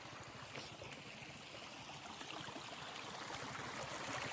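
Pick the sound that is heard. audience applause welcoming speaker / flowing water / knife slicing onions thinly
flowing water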